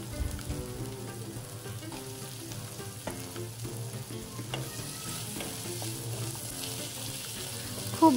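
Cut potatoes are tossed into sizzling spices in a pan for a village-style taki fish curry, frying with a steady crackle while being stirred and scraped, ending with a louder clatter.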